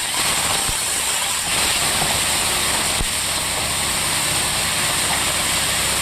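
Corned beef frying with garlic in olive oil gives a steady, loud, even sizzle that carries unbroken from start to finish.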